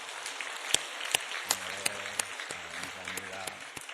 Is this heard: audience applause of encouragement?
yes